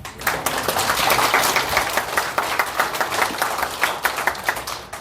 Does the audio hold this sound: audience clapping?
yes